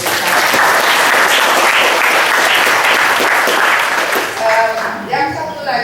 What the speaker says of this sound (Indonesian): Dan saya kira tepuk tangan monggo diberikan.